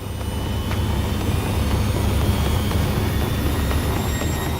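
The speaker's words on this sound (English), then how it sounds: "You can hear the engine spool up." An airliner's jet engine spools up, a steady, loud roar with a low rumble, building slightly in intensity and holding as a continuous whine.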